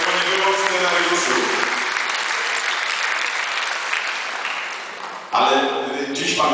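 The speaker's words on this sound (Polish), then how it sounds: "Wielkie brawa dla pana Tomasza Szejnowskiego." Crowd at a school's 120th anniversary ceremony applauding the school director, loud, dense clapping from many hands that fills the room steadily, with a brief voice at the start and a voice cutting in over it near the end.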